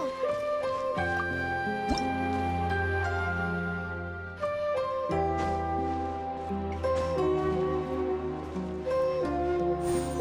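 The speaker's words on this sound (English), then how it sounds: "Wow, another water droplet just came out from the wall!" A water droplet squishes out of a wall in the video game Genshin Impact, with wet dripping sounds over a sustained musical score.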